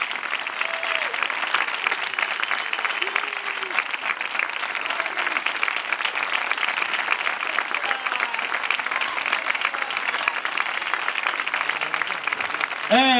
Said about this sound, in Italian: Per tutti voi ragazzi, forte l'applauso.